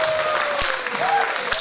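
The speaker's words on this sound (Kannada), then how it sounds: "ಜೋರಾದ ಚಪ್ಪಾಳೆ ಕೆ.ಸಿ." An audience gives a brief burst of applause after a mythological drama song is performed, with scattered claps heard under a speaking voice.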